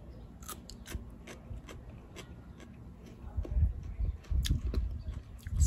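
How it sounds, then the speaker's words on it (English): A knife slices through a mature chayote fruit, giving a series of short crisp cuts and scrapes that grow louder and denser toward the end, close up with no talking. "Let's cut a slice of the more mature one and see how it tastes."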